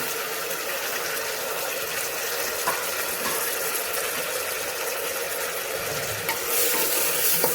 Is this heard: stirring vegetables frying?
yes